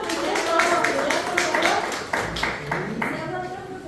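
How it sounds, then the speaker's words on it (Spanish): A classroom of students claps in quick, steady bursts of applause for a game winner, with lively voices and chatter mixed in throughout. "un aplauso"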